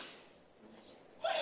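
A single sharp sneeze bursts out at the very end after a moment of quiet breathing, close and fairly loud.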